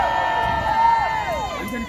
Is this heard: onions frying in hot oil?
no